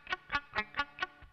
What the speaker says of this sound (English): My fingers are in the right place, but I'm not pressing down.